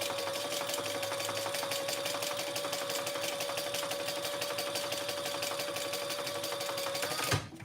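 A sewing machine runs a seam in one long steady stretch, its rapid even needle rhythm and motor hum close and continuous before stopping with a brief clunk at the end, no talking.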